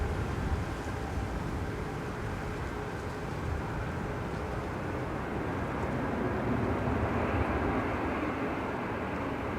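A British Airways plane takes off at Manchester Airport, a steady, loud, broad roar of jet engines that holds evenly throughout with no voices.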